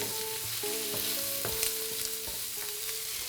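Omelette mixture cooking in a buttered pan, a steady sizzle with a few clinks of utensil against the pan, close and continuous with no voices.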